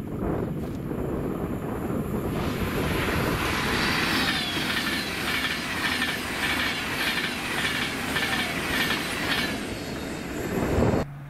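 Avanti West Coast Class 390 train on a Glasgow Central to London Euston service passing through Carluke station, a loud rushing roar with rhythmic clickety-clack of wheels and brief squeal, close and alone.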